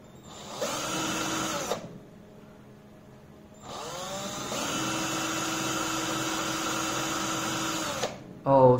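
A small DC motor, spun by hand as a generator, whirs with a high whine in two long runs separated by a pause, close and steady, ending with a brief louder burst.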